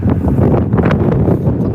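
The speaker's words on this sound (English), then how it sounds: "Very windy Birmingham Airport live." Strong gusting wind buffets the microphone at Birmingham Airport, a steady roaring rumble with no letup, loud and close throughout.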